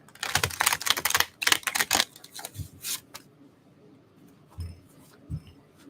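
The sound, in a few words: shuffling tarot cards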